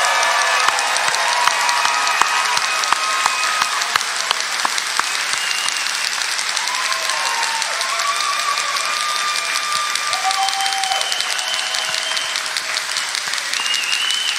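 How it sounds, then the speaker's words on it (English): Loud, sustained applause from a commencement crowd honoring graduating students wearing honor cords, dense clapping running continuously throughout, with scattered whistles and cheers rising above it. "join us in giving these a well-deserved applause"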